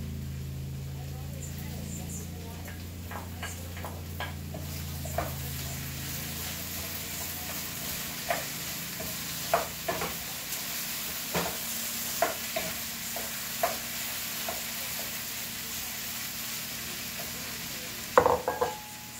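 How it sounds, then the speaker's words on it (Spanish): Chopped onion added to potatoes and green beans frying in a pan, a soft continuous sizzle with scattered clinks and scrapes of a utensil stirring, louder clatter near the end, and a low background hum early on. "Agregarle la cebolla a las papas y a los ejotes."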